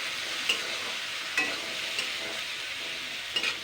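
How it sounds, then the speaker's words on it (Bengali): Chopped tomato fries in a pan with a constant bright sizzle, broken by four light scraping stirs spaced about a second apart, close and unaccompanied by voices. "টমেটো কুচনোটা দিয়ে আমি জাস্ট 2 মিনিট নাড়াচাড়া করে নেব।"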